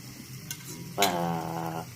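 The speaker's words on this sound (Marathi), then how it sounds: "चवीपुरतं मीठ कोल्हापुरी लाल तिखट हे सगळं व्यवस्थित मिक्स करून घ्या" A spoon stirs brinjal and potato with salt and Kolhapuri red chili powder in a hot pan, with a brief scrape followed by a close, steady sizzle of frying.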